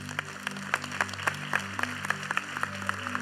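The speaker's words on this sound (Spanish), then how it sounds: "Dale un aplauso al Señor." A church congregation claps scattered and unevenly over a steady low sustained musical drone, individual hand claps standing out against the background.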